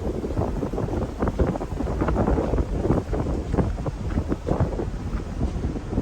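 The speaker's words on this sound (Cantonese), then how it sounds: "真係都幾大風啊！" Strong wind roars and buffets the microphone continuously on the deck of the MSC Meraviglia cruise ship, a heavy gusting rush with low rumble throughout and no voices.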